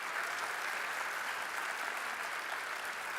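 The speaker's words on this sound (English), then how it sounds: "Let's give a huge round of applause." A large school assembly audience claps for guest speaker Tracy K. Smith, a dense, steady wash of applause filling the whole stretch with no voices over it.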